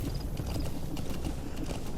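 Horse hooves clip-clop steadily in Metal Gear Solid V: The Phantom Pain, a continuous muffled patter under constant game ambience, fairly close and moderately loud.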